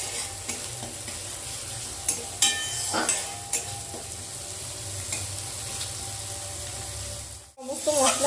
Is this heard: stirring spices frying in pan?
yes